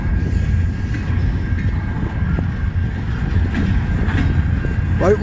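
A freight train passes close by, a steady heavy rumble of rolling railcars with low-end roar and occasional clanks, heard alone throughout.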